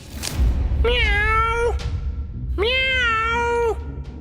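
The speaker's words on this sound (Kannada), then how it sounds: "ಬೆಕ್ಕಿನ ಸ್ವರ ಅಂದ್ರೆ ಮಧುರವಾದ ಧ್ವನಿ." A cat gives two drawn-out meows, each lasting close to a second with a short gap between, heard clearly over a low background rumble.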